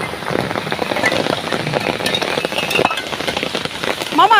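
Heavy rain falls during a storm while mangoes are gathered outdoors, a close, dense patter with a few small clinks and a brief high squeal right at the end.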